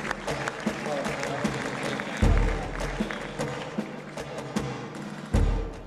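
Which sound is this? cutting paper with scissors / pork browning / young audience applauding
young audience applauding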